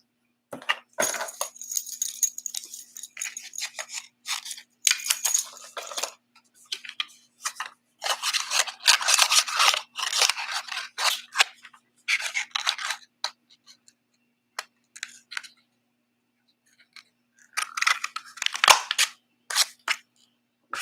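Scissors cutting through card stock to make a tear-off bookmark, a run of crisp snipping and rustling strokes in uneven bursts with brief pauses, close and fairly loud, with no talking.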